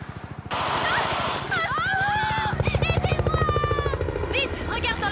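A cartoon helicopter's rotor chops in a steady, close, rapid beat throughout, with voices and other animated sound effects layered over it.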